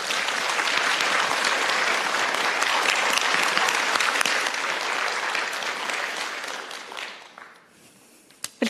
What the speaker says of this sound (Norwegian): de skal få en applaus